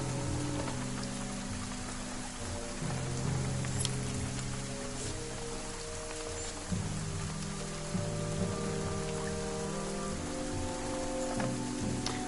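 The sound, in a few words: rain falling, from the video game Banner Saga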